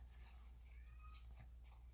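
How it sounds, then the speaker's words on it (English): A house cat whines and meows faintly in the background, a few brief plaintive cries in an otherwise quiet indoor room. "My cat's whining in the background."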